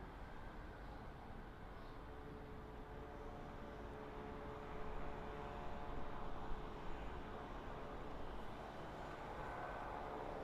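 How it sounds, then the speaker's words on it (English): A TUI Boeing Dreamliner airliner taxiing at Birmingham Airport, heard as a steady, distant broadband jet engine roar with a faint whine, even and continuous throughout with no voices. "We've also got a TUI Dreamliner which is taxiing out for Punta Cana."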